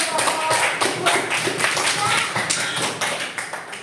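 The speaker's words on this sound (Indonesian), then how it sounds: "Tepuk tangan yang meriah dong." Classroom applause during a teacher training session, a burst of quick uneven hand claps and taps from a group, fairly close and loud, with voices murmuring underneath as it gradually thins out.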